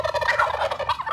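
A wild turkey gobbles in a quiet Seminole County, Central Florida neighborhood, a rapid rattling call heard up close and fairly loud, with no voices over it.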